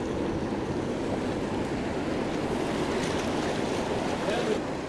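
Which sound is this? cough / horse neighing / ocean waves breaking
ocean waves breaking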